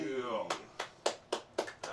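A quick run of about six sharp hand claps at steady intervals on a comedy podcast, following a moment of talk at the start.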